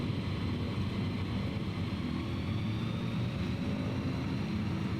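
A Savage Cub light plane in Microsoft Flight Simulator 2020 drones steadily as it gathers speed along the runway for takeoff, its engine a continuous, even, close roar with no pauses or voices.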